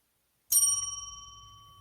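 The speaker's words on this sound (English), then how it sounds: "That's a good bell, Junior." A single bright bell strike rings out after a moment of silence, its clear metallic tone sustaining and slowly fading over more than a second, with a faint low murmur underneath.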